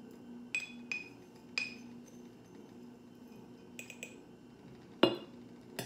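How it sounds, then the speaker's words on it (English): Glass clinks and taps from spooning loose tea mix into a 32-ounce glass jar, a few sharp separate knocks with quieter scraping between them, close and fairly faint, no talk. "you're gonna add about 1 to 2 tablespoons of your tea mix into your 32-ounce jar"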